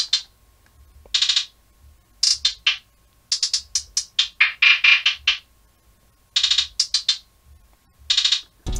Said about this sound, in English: There was a little hi-hat pattern that I added at the end of every like four bars